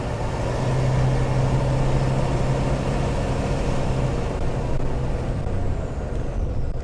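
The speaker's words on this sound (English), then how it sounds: "If you lower the window, okay, you'll hear a little bit of turbo spool." An AM General Hummer H1 truck engine drones steadily while driving, a continuous loud low rumble with a faint whistling turbo spool layered on top, without talk.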